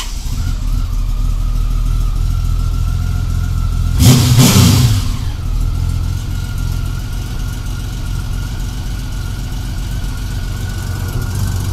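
A 1999 Honda Valkyrie Interstate motorcycle engine running close by, a steady low idle broken by a brief loud rev burst partway through, then settling back into an even rumble.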